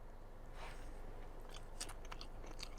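Soft, close biting and chewing of Vietnamese pork sausage (moo yor) dipped in a thick sauce, a few quiet crunchy bites over a low background hiss.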